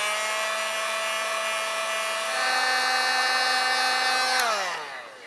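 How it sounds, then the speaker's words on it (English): A heat gun blows steadily at close range while shrinking shrink wrap on wiring for a 2001-2006 Chevrolet Silverado 2500 headlight install, a continuous whirring hiss that shifts slightly midway and winds down at the end. "I'm just going to use a heat gun and shrink this."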